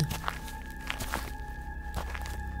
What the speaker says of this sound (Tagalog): Nakarinig ako ng yabag sa sahig